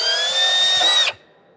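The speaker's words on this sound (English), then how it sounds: "I get a feel for it, and then I'm gonna drill straight down." A power drill runs steadily into an aircraft wing through a drill guide, a loud, close, even high whine held for about a second before it stops abruptly into quiet.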